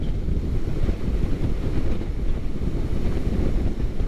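Strong wind at Point Reyes on the California coast buffets the microphone in a continuous loud low rumble, with a faint wash of surf underneath and no talking.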